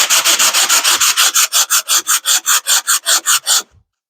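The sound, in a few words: sanding on sandpaper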